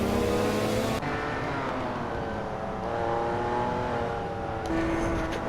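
A big pack of racing cars in a Hot Wheels game roars past, with layered whining engines and shifting revs blending into one continuous loud drone.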